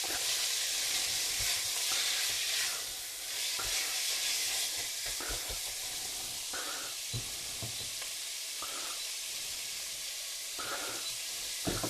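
Minced meat for keema pasta sizzles and fries in a pan, a steady loud hiss broken by occasional stirring scrapes and clatters, with no voices.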